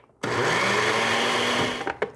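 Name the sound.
blender grinding dried orange peels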